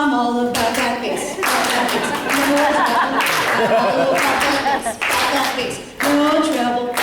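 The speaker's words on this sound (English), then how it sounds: "Keep clapping." Hands clap steadily along to an upbeat song with a singing voice, the claps loud and close in a continuous rhythmic pattern with a couple of brief pauses.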